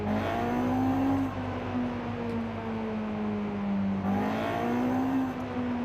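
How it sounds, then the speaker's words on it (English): A naturally aspirated Honda engine in Forza Horizon 5 revs up and down twice, a clear droning tone climbing and falling with each throttle blip, heard up close without speech. "Sounds like a true Honda."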